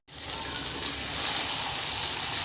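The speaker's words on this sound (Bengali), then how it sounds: "তো দেখো মাংস কষাচ্ছি" Meat with potatoes being sautéed in a pan sets off a loud, steady hiss of frying that starts abruptly and holds close and continuous.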